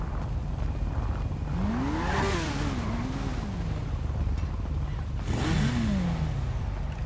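A motorcycle in GTA roleplay revs its engine in two separate bursts, each pitch rising and then falling away. The engine stays close and loud against steady background game noise, with no talking.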